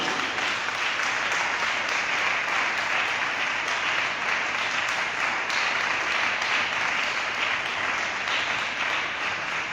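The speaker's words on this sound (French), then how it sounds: "je voudrais vous inviter à applaudir très fort ce Dieu-là" Congregation at a Catholic fraternity gathering in Benin applauding loudly, a steady, dense wash of clapping that continues without a break for about ten seconds.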